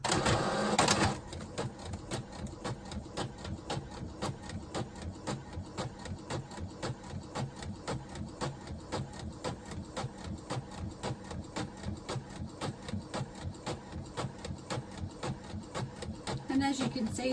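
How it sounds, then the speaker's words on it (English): An inkjet printer runs continuously while printing on tissue paper, its print head shuttling back and forth in a fast, regular mechanical rhythm, close and steady throughout. "I will show you as it comes out of the printer"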